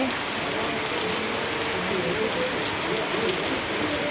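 Steady morning rain falling as a dense, even hiss at moderate volume, unbroken for the whole stretch, with no voices.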